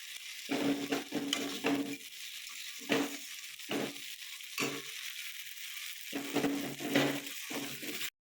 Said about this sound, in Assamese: ভালকৈ ভাজি থাকিম।